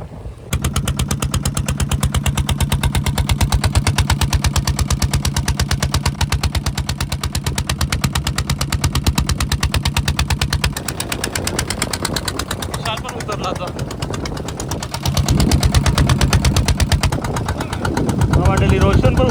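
A motorized fishing boat's engine chugs loud and close with a steady, rapid knocking beat, briefly easing and then picking up again, with voices talking over it.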